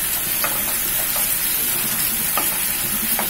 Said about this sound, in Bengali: মশলা কষানো করে দিলাম